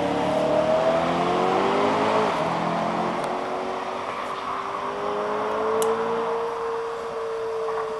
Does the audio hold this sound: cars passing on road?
yes